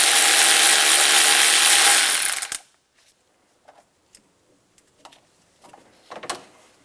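Rapid ratcheting of a 10 mm socket wrench loosening a power steering line bracket bolt on a 2000-2006 Toyota Tundra 4.7L V8, a loud steady clicking run for about two seconds, then quiet with a few scattered small metallic clicks and handling sounds.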